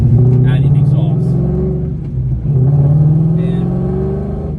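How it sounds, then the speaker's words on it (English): A 94-04 Ford Mustang fitted with a Borla Stinger catback exhaust, its engine burbling and rumbling through two rising revs with a brief dip between them, loud and close. "the exhaust in this video, as you heard, or that you're hearing now, is the Borla Stinger catback"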